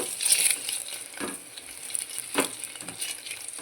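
Masala for egg biryani sizzling in a pan while being stirred, a steady close frying hiss broken by scraping strokes of the spoon, with no voices.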